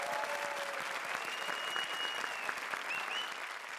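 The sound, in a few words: audience applause for the four trios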